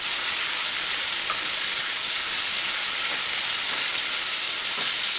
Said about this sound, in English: Chicken is beginning to sizzle over there.